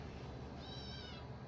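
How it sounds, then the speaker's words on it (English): A cat gives a single short meow, faint and brief, in a quiet indoor space with background hiss. "we've woken up the kitty monster"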